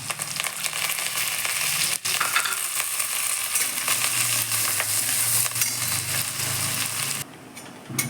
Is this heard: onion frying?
yes